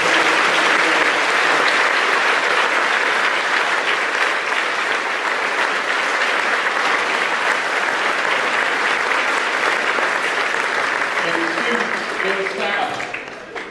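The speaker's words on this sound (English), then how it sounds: "let's give one big round of applause for our band," Loud, sustained applause from a school assembly audience for the band and choir, a thick wash of clapping that holds steady before tapering off at the end.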